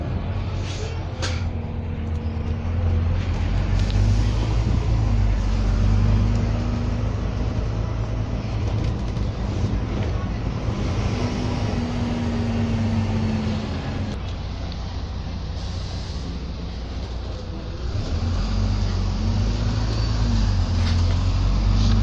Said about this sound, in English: Here we are on board, going off E6006 on a 900 metro replacement to Tynemouth in the Red Arrow livery.